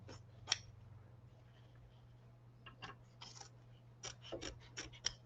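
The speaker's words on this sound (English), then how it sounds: "we're going to use our hoop scissors again, and we are going to trim a scant 1/4 inch along the tack down on those inside edges again." Hoop scissors trim a scant quarter inch of fabric along a tacked-down appliqué edge, giving a string of quiet, close snips and small rustles that cluster into rapid bursts toward the end over a faint steady hum.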